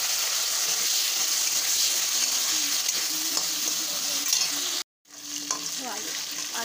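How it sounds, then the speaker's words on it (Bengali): Potatoes sizzle steadily in a wok with whole cumin seeds in hot oil, a dense continuous hiss with stirring, broken by one brief silent cut before the frying resumes, with no one talking. "আলুটা হালকা ভাজা হয়ে গেছে"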